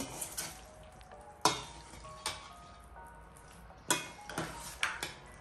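Tomatoes frying in a pan, with a faint steady sizzle punctuated by sharp utensil clicks and scrapes against the pan at irregular intervals, close by.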